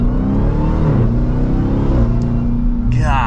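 A 2023 Dodge Durango SRT Hellcat's supercharged engine revs and accelerates loudly and close by, a steady deep roar with rising pitch and a brief whine at the end.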